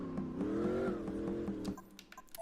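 A V8 car engine in the Gran Turismo 4 racing game revs loudly and steadily with a rising and falling pitch for most of the clip, then cuts off abruptly, leaving a few faint clicks and knocks.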